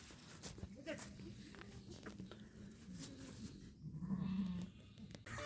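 A goat bleats once, short and fairly faint, during milking among nomadic shepherds' flocks, with rustling, footsteps and someone talking nearby.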